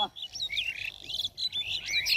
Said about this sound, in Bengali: পাখিরাও কিচিরমিচির করতেছে